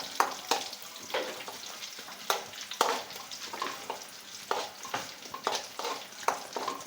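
Shallots sizzle and crackle in hot oil for a coconut fish curry, with repeated sharp scraping strokes of a spoon against the pan at a steady pace.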